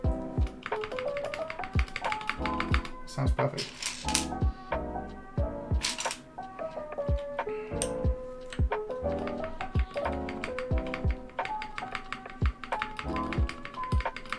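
Typing on a KBD75 mechanical keyboard fitted with NovelKey Cream switches gives a steady stream of close, crisp clacks with occasional deeper spacebar thocks, continuing throughout; a voice speaks briefly over the keys.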